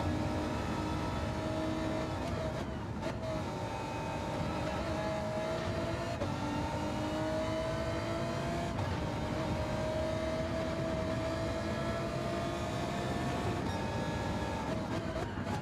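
Racing car in a racing video game, a loud continuous engine drone with rising and falling pitch as it shifts and brakes, steady throughout with no talk.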